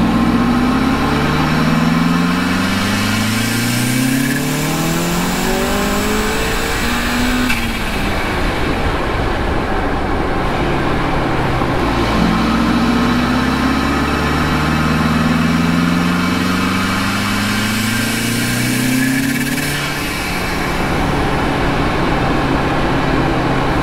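Turbocharged car engine cruising through side streets, a continuous loud drone whose pitch climbs and falls in two long sweeps as it accelerates and shifts, with no speech.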